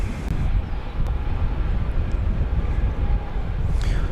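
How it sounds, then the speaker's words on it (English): An American Airlines Airbus A321 jet rumbles in a steady, fairly loud low roar at Dallas/Fort Worth Airport, with a slight rushing hiss and no talk. "American Flight 2748 from Seattle, an Airbus A321"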